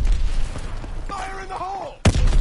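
A grenade detonates in a PS4 multiplayer shooter: an abrupt, loud blast near the end cuts through steady battle noise after a short rising tonal sound, with no voices in the moment.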